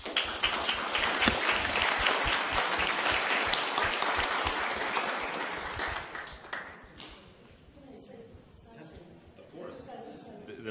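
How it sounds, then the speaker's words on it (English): Loud clapping from a large audience at a panel discussion, dense and sustained, then tapering off while a voice begins speaking. "also for a round of applause for our panel."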